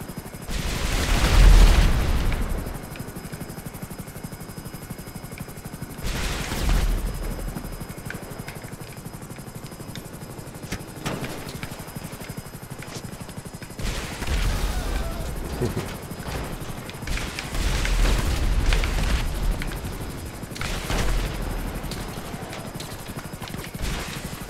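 Attack helicopter firing a missile barrage in a video game, several booming launches and impacts spread across the clip over a steady rotor drone, moderately loud.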